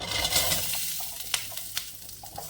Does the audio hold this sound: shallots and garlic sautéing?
yes